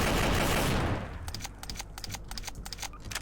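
Rapid, evenly spaced gunshots from a Garry's Mod weapons pack addon crackle in a quick automatic string after a wash of loud noise fades out.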